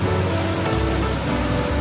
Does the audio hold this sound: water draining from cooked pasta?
yes